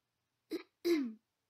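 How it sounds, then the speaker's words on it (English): A throat-clearing sound effect from the Seduce Me otome video game, a short two-part ahem, a brief grunt followed by a longer voiced rasp, against silence. "I heard Naomi, another one of my best friends, clearing her throat in obvious disapproval of Suzu's choice of words."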